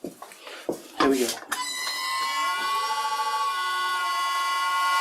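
Old Karger metal lathe spinning up to 300 RPM in a workshop, a steady whine with fine harmonic tones settling in after a few brief clanks and bumps of setup.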